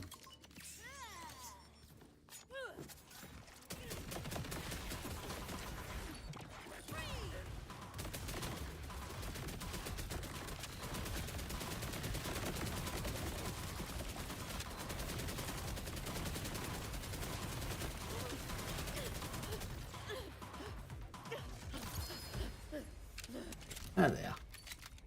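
Rapid video game gunfire from a weapon called the Infinity rattles in dense, sustained bursts for most of the stretch, with a player talking over it at times.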